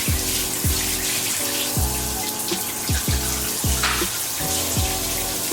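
Steady running water pours from a tap while a child's curly hair is rinsed on wash day, a continuous splashing hiss with a low, irregular thumping rhythm beneath it and no voices.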